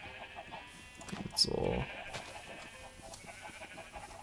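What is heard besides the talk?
sheep bleating in Minecraft video game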